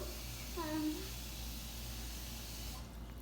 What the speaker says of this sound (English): We're getting water into it to boil them.